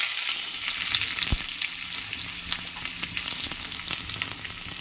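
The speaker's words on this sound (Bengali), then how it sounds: "পেঁয়াজটাকে ভালো করে ভেজে নেব।" Onions frying in oil in a wok (kadai) with dried red chillies, a steady broadband sizzle with scattered crackles and occasional stirring clicks, close and continuous with no talking.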